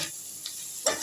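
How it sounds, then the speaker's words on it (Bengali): Onions frying in a pan for a mashed bhorta, a steady soft sizzle with a sharper scrape of stirring near the end, close and alone with no talk. "দেখুন পেঁয়াজটা মোটামুটি ভাজা ভাজা হয়ে এসেছে।"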